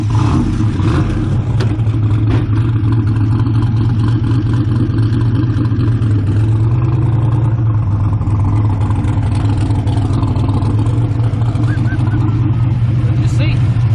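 Turbocharged LS-engined car idling and creeping in reverse, its deep engine drone loud and steady throughout with a slight rise near the middle, while people talk over it.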